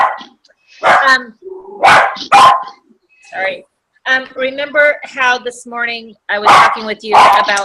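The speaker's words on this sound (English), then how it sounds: "Sorry, that's my dog." A pet dog barks and yips repeatedly in a home during a group video call, with loud, close barks interleaved with a person talking.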